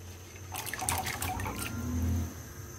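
Black chickpeas splash and patter into hot water in a brief cluster of wet drips and plops, followed by a low bubbling simmer.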